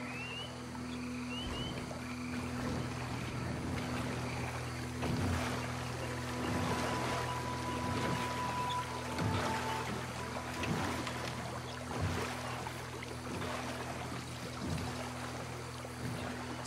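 A 12-foot skiff drifts on bayou water in Red Dead Redemption 2, with soft lapping and paddling splashes over a steady ambient hum and faint insect-like tones, continuous and fairly quiet throughout.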